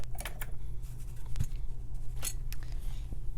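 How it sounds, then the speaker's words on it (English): Scissors snip through a length of string on a craft mat for an envelope closure, a few quick close cuts over a low steady hum. "Cut that length of string."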